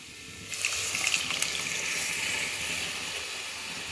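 Water poured into a pot of brinjal and drumstick sambar with sambar powder and cooked dal, a steady hissing, bubbling pour that starts suddenly and continues evenly for several seconds.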